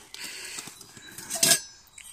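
A few light metallic clinks and taps, then a brighter clatter of a stainless steel billy can being handled up close.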